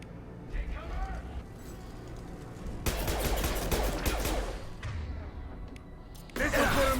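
Gunfire in a Mass Effect 2 firefight against Blue Suns and Vorcha, a dense burst of shots in the middle and again at the end, over a low rumbling backdrop.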